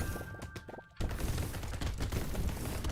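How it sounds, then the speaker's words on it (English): Flamer turrets blaze away in Brotato, wave 9: after a brief quieter moment, a dense, unbroken stream of rapid crackling bursts fills the rest, loud and close. "I just love flamer turrets in wave 9"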